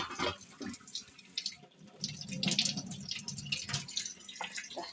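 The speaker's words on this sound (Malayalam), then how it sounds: "അപ്പം ഞാനിതാ അത് നന്നായിട്ടൊന്ന് കഴുകുന്നുണ്ട്" Bottle gourd vegetables are washed under a running tap in a sink, with soft splashing and trickling water and light handling noises close by at a fairly low level.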